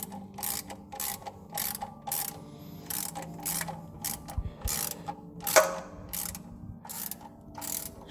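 Torque wrench ratcheting as bolts on a car's thermostat housing are tightened to 13 Nm, a string of crisp clicking bursts repeating at a steady rhythm, close and fairly loud.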